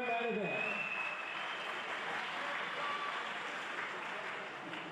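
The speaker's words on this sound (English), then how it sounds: "Let's give both of these fighters a huge round of applause" Crowd applause for two fighters at the close of a co-main event at an MTGP Australia fight night, a dense, steady wash of clapping and cheering that fills the whole stretch at a moderate distance.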